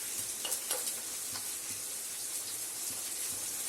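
Onion, ginger and garlic sizzle steadily in hot oil with green chilli, a continuous bright frying hiss with faint stirring clicks, close and fairly loud, no talking.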